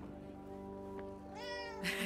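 A cat meows in the video game Forspoken: a single drawn-out, rising meow near the end, heard over a steady, droning game background.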